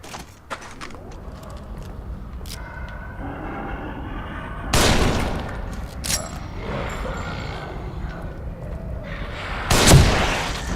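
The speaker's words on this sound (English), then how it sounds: "shooting one in the head with your sniper" Sniper rifle fire in The Evil Within, with two sharp, loud shots several seconds apart over low ambient game noise and faint clanks.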